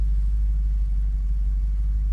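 A car engine idles after revving, a low steady close rumble with its rpm slowly settling, no talking.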